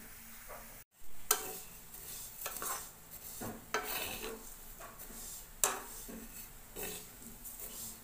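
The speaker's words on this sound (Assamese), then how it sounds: "গোটেই ভাজিম, ভাজাই আছিলে আৰু অলপ ভাজি দিম ঘি দি।" Vermicelli frying in ghee in a pan, a quiet steady sizzle broken by scraping stirs and occasional clinks of the utensil against the metal.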